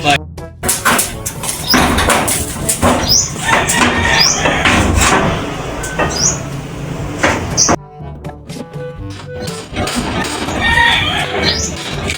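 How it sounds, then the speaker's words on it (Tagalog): Loud metallic clattering, scraping and banging of corrugated iron roof sheets being pried and pulled off a house, with hammer knocks and people talking throughout. "tinatanggal na po yung yero dito."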